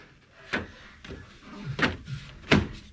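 Plastic clicks and knocks as an Opel Zafira B front headlight unit is pressed and snapped into place, three sharp snaps among softer handling bumps, close by.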